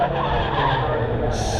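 A Formula Vee race car at Mondello Park locks its brakes, a loud, continuous tyre skid and engine roar running steadily throughout, with a higher squeal rising near the end.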